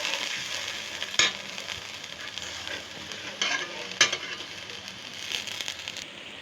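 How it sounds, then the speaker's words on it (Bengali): Prawn malai curry masala with milk frying in a pan, a steady close sizzle broken by a few sharp stirring clatters of the spoon. "আমি এই দুধটা দিয়ে আবার একটু কষিয়ে নেব।"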